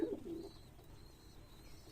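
Pigeons at a pigeon farm coo softly near the start, then a quiet ambient hush carries on with faint background noise and no speech.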